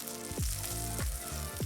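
Chicken skin sizzles and crackles steadily in a hot frying pan as it crisps, a continuous close hiss with a few gliding tonal sweeps riding over it.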